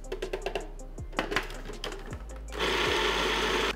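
Sewing machine-like motor whirr of a blender grinding quinoa and brown rice into cracker dough, broken by short taps and scrapes before a steady, loud continuous run near the end.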